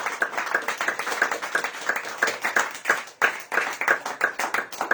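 A church congregation claps steadily in rhythm with one another, a dense, lively run of hand claps filling the room for several seconds without any talking.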